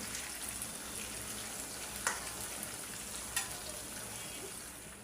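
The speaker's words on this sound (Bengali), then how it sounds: "আমি মুরগিগুলো আমি বাজিয়া উঠা এই প্যানের মধ্যে আমি বেগুন বাজিয়া নিব।" Eggplant frying in a pan just after chicken was fried in it, a quiet, steady sizzle with two brief scraping stirs, no talk.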